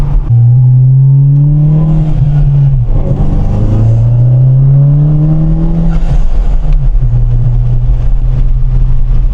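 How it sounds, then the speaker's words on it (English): A Volkswagen GTI fitted with an upgraded rear sway bar drives through a neighborhood. Its engine drones loud and close from inside the cabin, pitch climbing steadily through the gears and dipping between shifts, with no talking. "let's do a quick little rip around the neighborhood"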